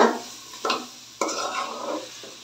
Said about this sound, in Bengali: এখন এগুলো নেড়ে নিব